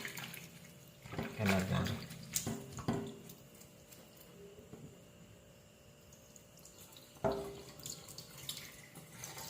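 Tap water running in a sink while sliced bamboo shoots are washed by hand, soft splashing and rinsing with a few louder bursts of handling, under a person talking quietly.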